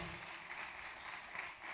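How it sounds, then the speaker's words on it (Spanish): An audience at a church-style gathering in Mexico City claps steadily in a broad, continuous wash of applause that holds fairly even through the short stretch without fading. "Denles un aplauso, denle la bienvenida."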